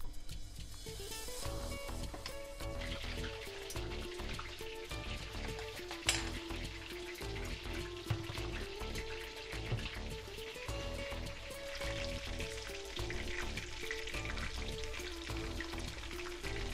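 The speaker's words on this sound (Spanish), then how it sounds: "Lo vamos a freír el pollo." Chicken pieces frying in a pan for Ecuadorian arroz con pollo, a quiet continuous sizzle with scattered crackles and a few light clinks of utensil on pan, no voices over it.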